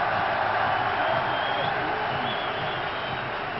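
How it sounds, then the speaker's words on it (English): Cricket crowd at a Pakistan versus South Africa match raising a broad, steady cheer and applause as an injured player gets back up, a dense wash of distant voices sustained throughout. "He's getting up and there's a big cheer"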